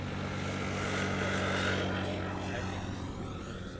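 Airbus A380 jet at Amsterdam Schiphol Airport: a continuous broad engine roar with a steady low drone, moderately distant and fairly quiet, swelling slightly and then easing off.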